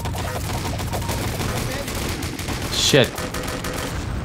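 Gunfire in the online shooter Wolfenstein: Enemy Territory, a dense, continuous rattle of weapons in a loud firefight with a sharper burst near the end, under a brief spoken exclamation.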